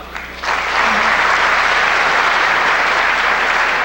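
An audience at a public hearing on pharmacists' herbal medicine dispensing breaks into applause, which starts quietly and then swells into steady, loud, sustained clapping from a crowd indoors.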